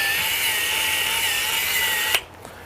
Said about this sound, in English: So I'm running my hands pretty close to the belt sander